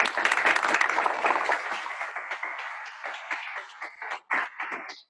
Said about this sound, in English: let's give them a round of applause for their fantastic